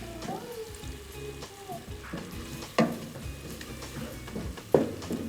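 Ingredients for creamy chicken, with sliced lemon, sizzle and fry in a pan at a steady low hiss, broken by two sharp clatters of a stirring spoon against the pan.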